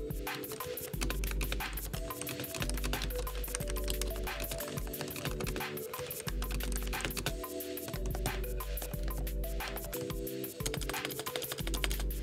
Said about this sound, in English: this keyboard definitely has some above average membrane switches.